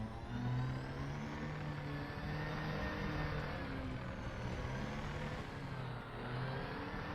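A vehicle engine in Elite Dangerous drones steadily at mid pitch with slight rising and falling revs, moderately loud and continuous without talk.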